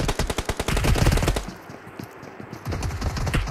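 Rapid automatic gunfire in PUBG Mobile: a fast, loud, evenly spaced burst of shots, a brief pause with faint echo, then another quick burst starting up near the end.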